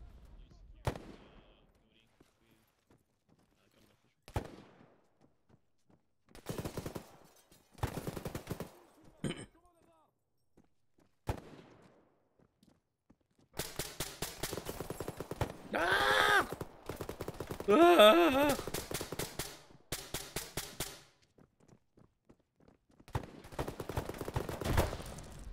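Gunfire crackles in bursts: scattered single shots early, then sustained rapid automatic fire with loud blasts, nearby and intense.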